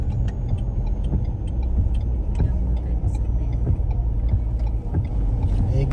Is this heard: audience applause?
no